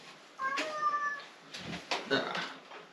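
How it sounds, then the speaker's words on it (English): A cat meows repeatedly in short, close calls across a few seconds in a kitchen, with some rustling and a brief voice in the background. "why is that cat meowing so much?"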